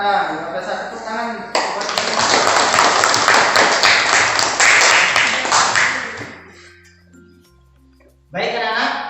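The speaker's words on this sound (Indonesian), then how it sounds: "Bapak saya tepuk tangan" Hands clap in an outdoor school physical education lesson, a sustained run of clapping lasting several seconds, with talk before and after.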